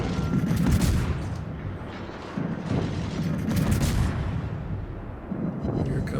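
Naval gun salvo from a French tier-9 destroyer, the Mogador, in World of Warships: a dense rolling barrage of heavy booms and rumbling blasts that stays loud and continuous throughout, with no talk over it.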